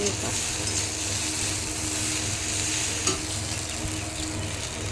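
Food frying in a pan with ground black pepper and spices, a continuous close sizzle with scraping stirring strokes and a sharp utensil knock against the pan near the end.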